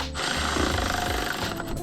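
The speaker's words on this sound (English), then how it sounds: "a power ratchet like mine, you want to make sure to go real slow, because this is plastic" A power ratchet slowly turns plastic headlight fasteners on a Dodge Challenger, producing a close, loud, buzzing mechanical rattle with rapid clicking pulses that runs for under two seconds.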